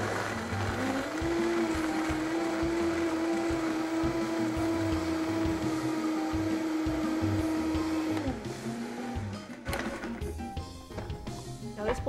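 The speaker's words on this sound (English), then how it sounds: "Now this blender is a Vitamix, and it works really well for making margaritas and smoothies" A Vitamix blender whirs through ice for a frozen margarita, a loud steady motor whine for several seconds before it winds down, followed by clattering and handling noises.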